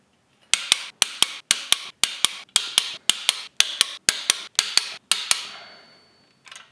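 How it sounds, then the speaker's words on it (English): A torque wrench tightens M10 12-point cylinder head nuts on a forged JCW engine, giving about ten sharp, close double clicks at a steady pace, followed by a fading metallic ring and one faint final tap. "So I'm going to go ahead and torque away step number 2 and then step number 3."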